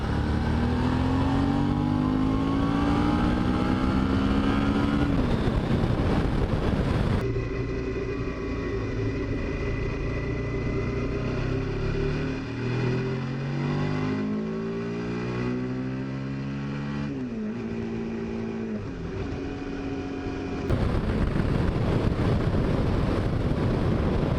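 A Suzuki V-Strom motorcycle engine revs up and climbs through the gears off-road, its pitch rising, dropping at each shift, then rising again, with heavy wind rush throughout.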